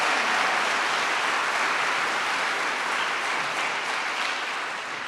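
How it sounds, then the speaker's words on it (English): At a physician assistant awards ceremony, a crowd gives the graduating class sustained, dense applause that stays loud throughout and fades only slightly at the end. "another big round of applause"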